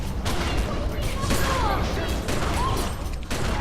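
Repeated shotgun blasts from a video game, The Secret World, fired in quick succession as a loud, dense burst of gunfire that fills the whole stretch with little pause.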